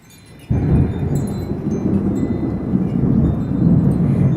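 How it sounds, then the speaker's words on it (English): Thunder rumbles loudly during a rainstorm in Lehigh Acres, Florida, bursting in suddenly and rolling on in a sustained low roar over steady rain. "Lightning, powering, thunder."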